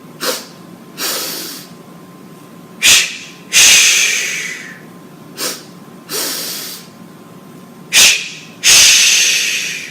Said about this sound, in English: the breathing is in, so inhale, hold for 2, and then exhale for 2